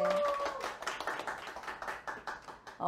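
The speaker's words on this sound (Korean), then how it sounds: "정말 큰 박수를 치고 시작을 했으면 좋겠습니다" Lecture audience clapping at the start of a talk, a quick rhythmic run of hand claps that eases off slightly but keeps going, fairly quiet and close.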